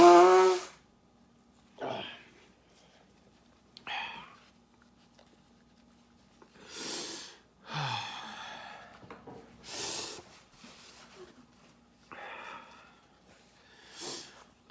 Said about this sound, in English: Blow my nose a minute.